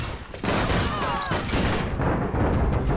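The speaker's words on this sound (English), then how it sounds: "I'm kinda getting shot up by an RSA and a shotgunner" Dense, loud gunfire from an RSA rifle and a shotgun in the online shooter APB Reloaded, with shots overlapping into a continuous barrage for the whole clip.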